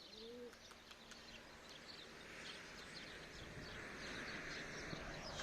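Pigeons coo softly at a rooftop loft, a brief low cooing near the start followed by faint chirps and a steady background hiss, distant and quiet.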